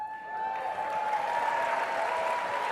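An audience at a talk breaks into applause, a short burst of steady clapping from a moderate-sized crowd that swells in the first half-second and holds evenly, with a faint tone running underneath.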